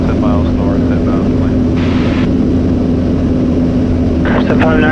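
A Cessna Skyhawk light aircraft engine drones steadily in flight, a loud, constant cabin hum with a pilot's radio call heard over it.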